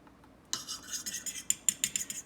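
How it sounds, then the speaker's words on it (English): A whisk stirs cornstarch into liquid: after a short quiet lead-in comes a quick, even run of about nine scraping, clinking metal strokes against the bowl, close and fairly loud. "Got to kind of keep whisking as it goes in, otherwise you get this just big clumps of cornstarch."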